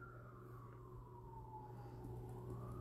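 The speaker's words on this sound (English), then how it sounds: "Ooh, sirens." A distant siren wails steadily, its pitch slowly falling and rising over a constant low hum of background noise.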